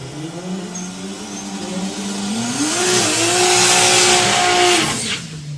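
A VW Golf accelerates hard down a drag strip at a VW drag racing festival, its engine note climbing through gear changes, swelling loudest mid-run before fading as the car passes into the distance.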